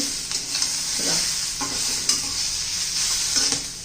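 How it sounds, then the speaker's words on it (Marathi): Onion fries in a pan for prawn masala, a steady close sizzle with occasional scraping strokes of a spoon stirring through it, and no talking. "आपला कांदा आता होत आलेला आहे."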